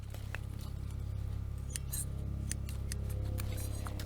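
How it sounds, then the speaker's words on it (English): Dull hand pruners snip small apples off a fruit spur, giving a few sharp, brief clicks spread over several seconds against a steady low outdoor hum. "we're going to cut them off with my very dull pruners"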